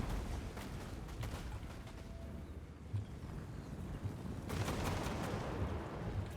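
Explosive bolts fire like mortar shots in a Warhammer 2: Total War battle, with repeated loud booms and cracks blending into a dense, continuous roar of battlefield noise.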